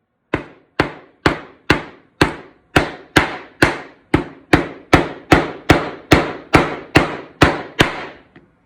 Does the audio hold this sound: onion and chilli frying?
no